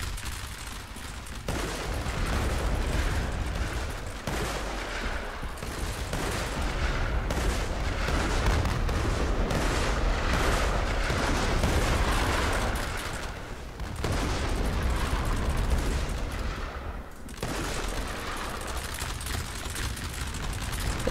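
Gunfire crackles through a Roblox Conquest video game battle, dense overlapping volleys of shots and booms rolling on almost without pause, loud and chaotic, with brief dips between waves.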